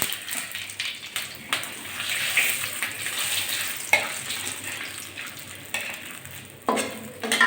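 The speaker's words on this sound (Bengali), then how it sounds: "আমি ফোড়ন দিয়ে দিচ্ছি পাতা আর শুকনো লঙ্কা" Whole white cumin, bay leaves and dried red chilies frying in hot oil as tempering for mung dal, giving a continuous close sizzle with occasional scraping stir sounds and no voices.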